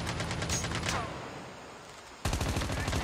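Rapid gunfire bursts in the mobile shooter Call of Duty Mobile, loud and dense at the start, dropping away, then resuming abruptly and continuing to the end.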